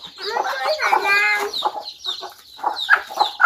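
A hen clucks repeatedly in close, choppy bursts, some drawn out and others short, with a sharper squawk or two among them.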